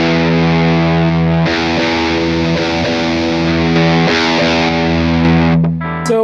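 Sustained distorted electric guitar chords, played through a Tsakalis MultiCab MK3 cabinet simulator pedal with its power section on, ring out loud and thick, shifting a few times, with a brief higher note at the end.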